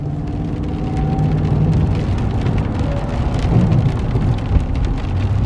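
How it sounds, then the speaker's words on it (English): Steady rain falls and patters on surfaces during a severe thunderstorm in Independence, Missouri, a constant wash of drops with a low rumble of passing traffic underneath. "It's raining still."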